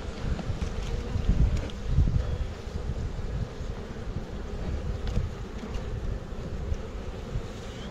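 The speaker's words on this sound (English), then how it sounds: "But there's tons and tons and tons of bees." A honey bee swarm hums as a continuous low buzz beneath wind noise on the microphone, with no talk during it.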